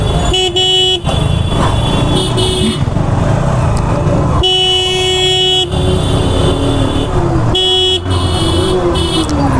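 Loud, dense road traffic with engines running throughout. Several long car horn blasts sound repeatedly, some near and some overlapping.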